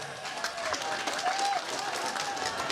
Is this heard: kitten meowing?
no